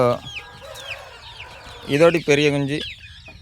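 Fifty-day-old chicks clucking nearby on a farm, a scatter of short calls followed by two louder, drawn-out squawks near the end, with faint background noise.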